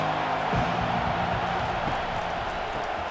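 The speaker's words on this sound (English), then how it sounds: "This crowd trying to make life miserable for this offense." A simulated stadium crowd at a college football game between Marshall and Ohio State keeps up a steady, moderately loud roar with a low hum running underneath.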